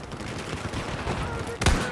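A single sharp sniper rifle shot in Battlefield 4 cracks loud and close near the end, breaking a steady wash of battlefield game noise.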